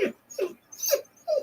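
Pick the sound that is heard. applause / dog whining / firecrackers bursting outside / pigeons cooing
dog whining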